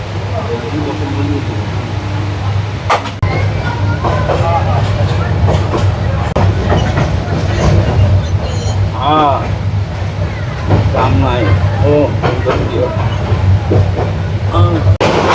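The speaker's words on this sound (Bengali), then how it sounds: "আমরা প্ল্যাটফর্ম ছেড়ে যাচ্ছি ঢাকার উদ্দেশ্যে" Sonar Bangla Express pulling out of a Chittagong platform bound for Dhaka, heard from inside the carriage as a loud low rumble and rhythmic clatter with scattered knocks, under chatter from nearby passengers.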